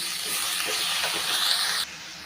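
Drumstick leaves and coriander sautéing lightly in a pan, producing a loud, close hissing sizzle that drops abruptly in level near the end.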